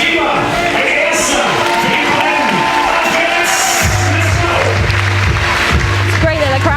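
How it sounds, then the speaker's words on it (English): A large audience cheers, whoops and applauds steadily at a bouldering competition in Innsbruck, filling the whole stretch with dense crowd noise while a commentator talks over it. "Crowd gets behind every athlete that comes out as well."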